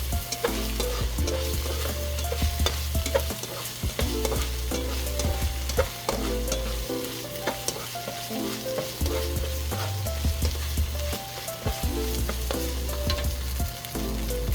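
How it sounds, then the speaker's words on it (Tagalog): Pork frying in a pan for spaghetti sauce, a dense continuous sizzle with constant scraping and clacking of a spatula stirring through it, close and fairly loud, with a low rumble underneath and no voices. "So, mix na natin dito sa ating pork."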